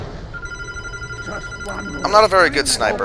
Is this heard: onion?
no